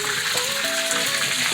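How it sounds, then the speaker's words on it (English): Steaks searing in a hot pan with butter, thyme and garlic, a steady close broadband sizzle with faint tonal whistles running throughout, no voices. "So we're searing the steaks now with butter, thyme, and garlic."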